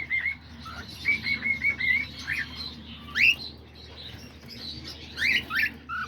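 Small pet birds in a home aviary, diamond doves, budgies, cockatiels and lovebirds, give scattered short chirps and tweets, a few sharper calls standing out against a steady low background hum.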